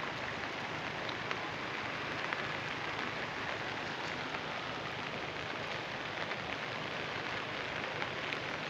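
Heavy rain pours down on farmland during a flood, a dense, constant hiss of drops hitting surfaces that stays steady and unbroken throughout.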